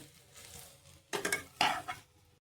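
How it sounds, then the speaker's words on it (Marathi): Boiled, peeled potatoes are stirred and mixed in a pan with a spoon, giving two short bursts of scraping and clinking against the pan over a faint background sizzle. "बटाटा छान मिक्स करून घेऊया।"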